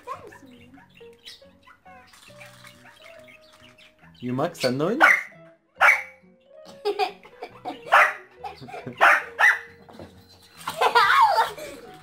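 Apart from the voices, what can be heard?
Maltese terrier dog growling and barking when angry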